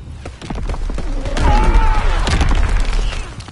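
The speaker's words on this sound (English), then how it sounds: "Enemy mortar fire incoming." Heavy gunfire and booming mortar blasts from a Call of Duty WW2 multiplayer match, loud and continuous with dense rattling bursts, a voice briefly audible under the din.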